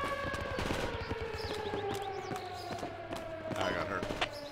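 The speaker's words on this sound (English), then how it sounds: "Still taking shots." Rapid bursts of small-arms fire crackle through a squad firefight in an airsoft or milsim operation, repeated sharp shots layered with close voices and radio-style chatter.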